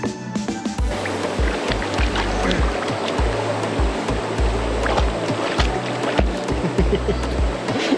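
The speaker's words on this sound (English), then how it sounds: "So this is Crystal Creek." Crystal Creek, a stream at a camping spot near Townsville in North Queensland, gives a steady, loud rushing of flowing water with a strong low-end rumble, heard close and continuous and with no talk.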